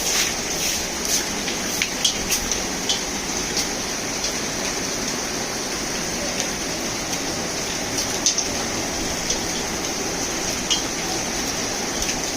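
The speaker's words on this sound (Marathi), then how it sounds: "घरे घरेनं पाऊस चालू आहे" Heavy monsoon rain pours down steadily in a town, a dense and constant wash of falling water with scattered louder drips and splashes and no voices.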